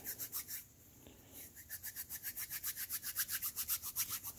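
Two palms rub briskly together close up, a dry rhythmic swishing of skin on skin repeating steadily about five times a second, with a short pause early on and no talking.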